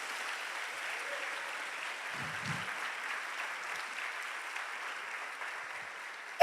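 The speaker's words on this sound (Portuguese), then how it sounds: "Você pode dar um aplauso ao Senhor em nome de Jesus?" A church congregation claps together in a steady, sustained burst of applause during a Portuguese-language worship service, filling the room evenly for several seconds.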